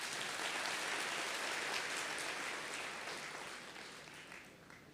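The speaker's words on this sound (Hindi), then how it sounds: "अपने लिए ताली बजा लो" Applause from a seated audience at a spiritual gathering, a dense, even wash of many hands clapping that holds steady, then slowly thins and fades toward the end, with no talk over it.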